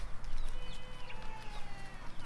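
Chickens cluck and chatter nearby in short, overlapping calls over a low outdoor hum, with no one talking.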